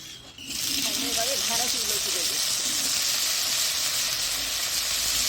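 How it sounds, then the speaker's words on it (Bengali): Payesh, a Bengali rice-and-milk pudding, bubbling in a pot for a birthday meal, heard as a steady close hiss and bubbling with a brief voice murmuring faintly near the start. "দেখুন আমার পায়েস ফুটছে"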